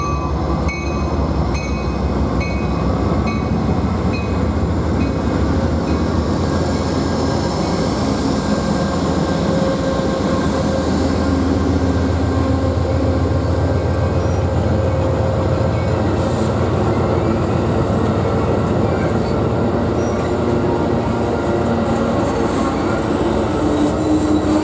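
Passenger train with sleeping cars and coaches pulling up at a BNSF Railway station in La Plata, Missouri, a steady loud rumble of rolling cars with faint wheel squeal, continuous and close for the whole stretch.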